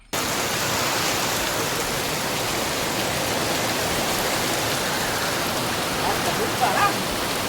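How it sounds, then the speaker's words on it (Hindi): A downpour of heavy rain hisses and roars continuously at close range, thick and even throughout, with a few faint louder spatters near the end. "मैं आगे आपको रियल वॉइस में इसको दिखाती हूँ कितना भयंकर वाला पानी यहाँ पे बरसा था।"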